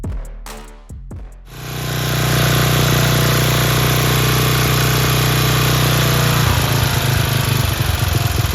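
An 11HP Briggs & Stratton flathead engine on a tractor cranks briefly, then catches and runs at a steady, loud, close idle, its drone shifting slightly near the end, with no talk.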